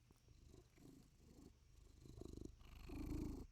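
Baloo, a very big pet cat, purring close up, a soft, steady rumbling purr that swells slightly toward the end.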